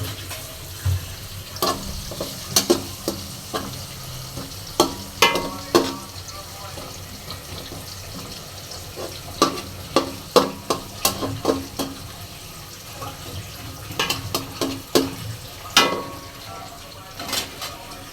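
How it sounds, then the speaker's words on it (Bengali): Onion and spices being stir-fried for biryani, with repeated scraping and stirring strokes in a pan over a low, steady sizzle, close by and moderately loud, no talk. "এখন বিরিয়ানি রান্না করব। এখন কষানোর পালা।"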